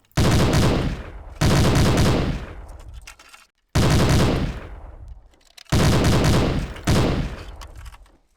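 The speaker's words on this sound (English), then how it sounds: "This is the Browning machine gun. It's a serious piece of hardware and deadly in combat." A Browning machine gun fires in the Hidden & Dangerous 2 shooting game: four long, loud, close bursts of rapid automatic fire, separated by brief pauses and trailing echoes.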